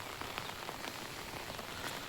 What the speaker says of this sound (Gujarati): વરસાદ કન્ટિન્યુ લગભગ 24 કલાક ઉપર પડ્યો